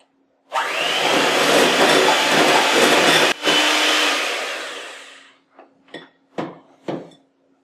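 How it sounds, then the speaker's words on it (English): An electric mixer runs on low, whirring a sour cream dressing in a bowl in a loud, steady drone for about three seconds. It then winds down, followed by a few short clunks and taps. "Turn on my mixer just long enough to mix it up on low."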